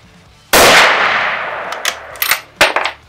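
Mauser M12 Max bolt-action rifle dry-firing after cocking: one sharp, loud metallic snap with a ringing tail, then a few lighter mechanical clicks and clacks close by.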